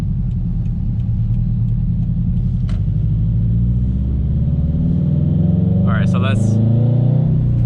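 Supercharged Subaru BRZ engine revving and pulling under acceleration, a steady loud low rumble that rises in pitch toward the end, with someone talking over it throughout.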